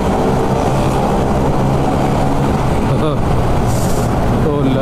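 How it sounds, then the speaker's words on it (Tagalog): A loud, rough motorcycle exhaust rumbles continuously up close, with faint voices underneath. "maingay na yung tambutso."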